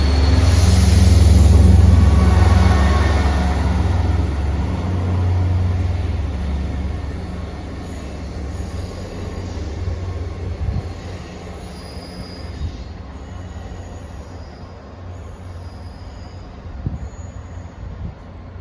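A delayed ScotRail Class 170 service from Glenrothes to Edinburgh Waverley pulls into Haymarket station with a loud, rumbling approach that eases into a rolling clatter and high, thin wheel squeal as it slows alongside the platform.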